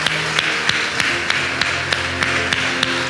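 A church congregation claps together in a steady rhythm, sharp regular claps about three per second over soft background music.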